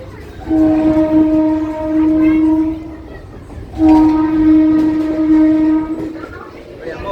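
A loud train horn blows in two long, steady blasts over the rumble of a moving train, close by, with no one speaking.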